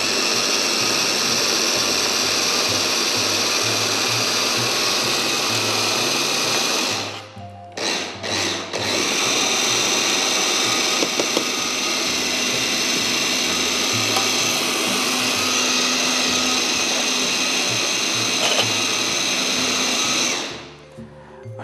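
A blender grinds eggplant for a rigatoni pasta sauce, a loud continuous whirring roar that stops briefly and restarts in short pulses, then runs steadily again before cutting off near the end.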